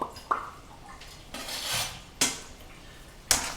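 Tomatoes dropped into a pan of cooking beef, a few sharp clinks and scrapes of a utensil on the pan with soft sliding and sizzling between, close and fairly quiet, no talk.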